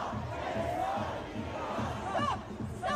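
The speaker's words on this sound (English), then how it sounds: "But tonight, as we speak, this is the crowd." Crowd of protesters at a night demonstration, a dense roar of massed shouting and chanting with a few sharper individual yells rising out near the end.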